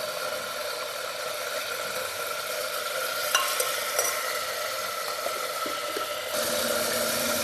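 Ginger garlic paste frying in hot oil in a home kitchen, a continuous close sizzle with stirring clicks, brightening slightly toward the end.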